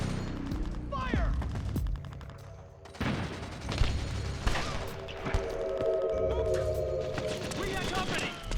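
Metal Gear Solid 4 gunfire, with sustained rattling bursts and a few heavier booming hits amid chaotic combat noise, voices shouting over the fight.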